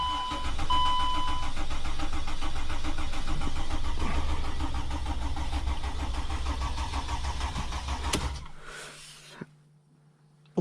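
A Mercedes Sprinter van with its front end partly taken apart for an oil cooler seal leak cranks long and laboriously at close range before the rough churning cuts out into a quieter steady hum.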